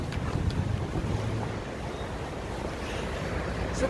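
Wind blows steadily outdoors on a walk, a continuous broadband rush buffeting the microphone with no talk over it.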